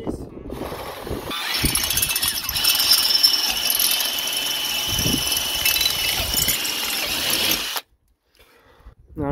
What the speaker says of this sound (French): Et on perce à 10